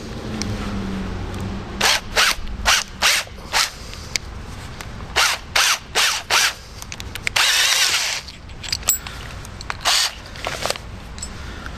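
A drill running in reverse to back out a screw extractor bit from a nut, for a home-made .50 blow gun: repeated short whirring bursts, some longer, loud and close, with no talking.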